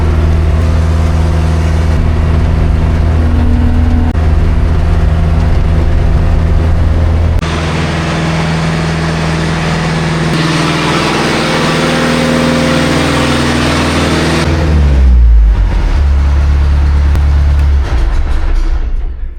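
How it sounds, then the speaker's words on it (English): An Argo amphibious vehicle's engine roars at full throttle while climbing a hill, a loud, close, sustained drone that shifts pitch partway through before dropping and revving again near the end. "Now, you're gonna have to go full throttle up the hill, and it just takes it."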